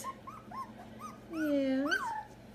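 Young Vizsla puppies whimper and whine for their mother, a chorus of high, rising and falling cries that overlap close by, swelling into a longer, louder whine near the end, with a faint background hum.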